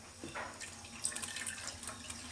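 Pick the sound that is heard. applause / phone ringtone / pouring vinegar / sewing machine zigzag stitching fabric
pouring vinegar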